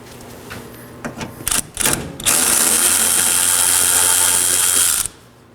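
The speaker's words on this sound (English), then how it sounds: "I'm going to start off by removing this top one, which is a 13mm." A power tool spins out a 13mm radiator core support bolt on a 2013-2019 Nissan Sentra, a few short clicks and bursts, then a loud steady whirring run of about three seconds that stops abruptly, close up.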